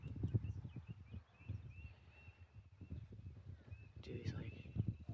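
Horses moving about during an introduction to a new herd member, hooves clip-clopping in a steady uneven patter with soft thuds, mixed with talking voices over a light outdoor background.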